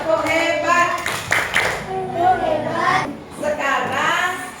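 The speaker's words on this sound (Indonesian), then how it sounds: "Sekali lagi tepuk tangan buat semua kelompok." A class of fourth-grade children in a classroom claps in several loud bursts, with children's voices and chatter in between.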